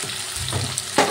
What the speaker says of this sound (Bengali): দিয়ে খুব ভালো করে তেলের সাথে ভেজে নিতে হবে